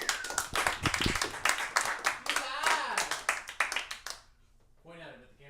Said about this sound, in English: We should give him some applause